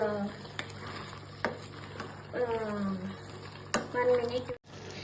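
Mango pieces added to half a kilo of mutton fry in a pan, a steady sizzle broken by sharp stirring scrapes and clinks of a utensil against the pan, with talk over it.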